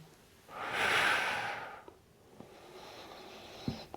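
Heavy breathing during an abdominal workout: one long, loud, rushing breath swells and fades, followed by quieter, softer breaths with a few small clicks and a short puff near the end.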